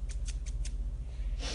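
Scissors handled in short bursts, four quick metallic snips or clicks in a row followed by a brief rustle, close and fairly quiet over a low steady hum with no talking.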